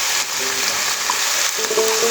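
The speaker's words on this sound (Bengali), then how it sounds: "আর দিয়ে দেবো কুচনো গ্রিন চিলি।" Chopped green chilies hit hot oil in a pan while chilli chicken is cooked, giving a loud, steady close-up sizzle with a bright crackling hiss throughout and no voices.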